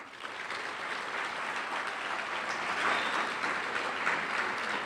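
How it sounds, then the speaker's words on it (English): A large audience at a conference opening session gives sustained, even applause, a soft wash of many hands clapping heard from a distance. "give yourselves a huge round of applause"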